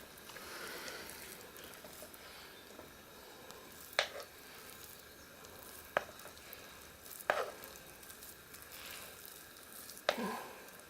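Thick ginger parkin cake batter slops and squishes softly into a tin, with a few sharp clicks and taps of a utensil against the rim over faint background hiss.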